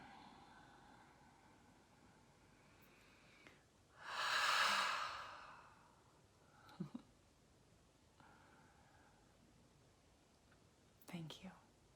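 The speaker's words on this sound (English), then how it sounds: "One more deep breath in." A single deep breath in during a guided reflection session: one slow, close, airy inhale of about two seconds in a quiet room, followed by a few faint soft breaths.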